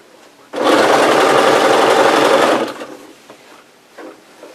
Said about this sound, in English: sew the bias together all the way up to that spot where we pinned it to the